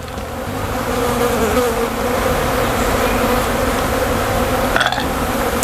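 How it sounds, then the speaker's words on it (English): A huge swarm of bees buzzing loudly and continuously close by, a dense steady hum with a brief rustle near the end, no talking. "there are so many bees over here compared to the other one now"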